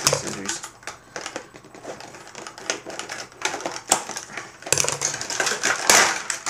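Scissors cut through the packaging of Skullcandy Hesh headphones, giving close, loud crunchy snips and crackling plastic in uneven bursts, with no talking.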